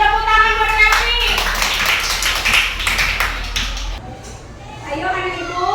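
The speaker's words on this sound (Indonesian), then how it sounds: "Tepuk tangan buat Kevin." A children's class applauds a classmate, with quick bursts of hand clapping over the first few seconds that then fade, while voices talk over and after it.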